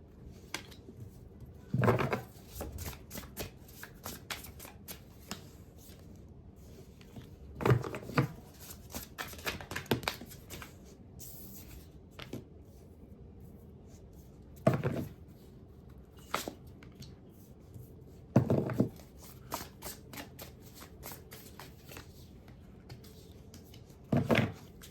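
A deck of tarot cards shuffled by hand in a close, quiet room, with repeated bursts of riffling and slapping at intervals of a few seconds.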